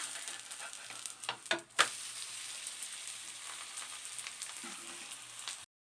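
Sweet corn adai frying in oil on a dosa griddle, a steady close sizzle with a few sharp clatters of a spatula as it is flipped, then an abrupt stop.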